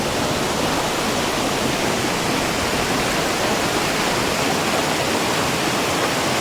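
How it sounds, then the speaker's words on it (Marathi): A loud, constant roar of a waterfall, a dense rushing wash of water that stays steady throughout. "अजून खाली धबधबा आहे"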